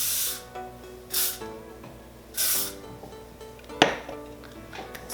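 Hairspray misted onto short hair being styled into big voluminous waves, several short hissing bursts from an aerosol can at close range, separated by brief pauses with small handling clicks.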